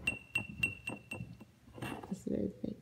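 A thick drinking glass, the sort used for water, wine or margaritas, clinks in a quick series of about five bright taps, close and fairly loud, with voices talking in the background.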